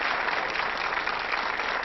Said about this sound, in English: Give her a nice round of applause to send her on her way.